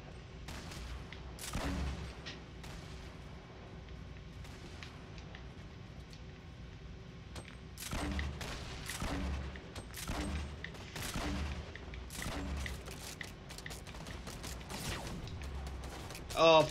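Rockets and gunfire in a multiplayer video game: repeated booming blasts and bursts of shots cluster at several points over a constant rumbling background, with players' voices faintly underneath.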